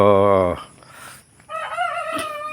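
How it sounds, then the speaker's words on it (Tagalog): A rooster crows nearby, a strained rising call that breaks off, then a second harmonic crow rises after a short lull with faint background noise. "naririnig ninyo yung uh, tilaok ng ating mga manok"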